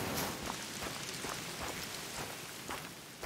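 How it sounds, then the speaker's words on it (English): Heavy, steady rain during a storm in the Te Awaroa reserve of the game theHunter: Call of the Wild, a dense, unbroken hiss of drops on surfaces that fills the whole stretch with no pauses. "It has not stopped raining in almost half an hour."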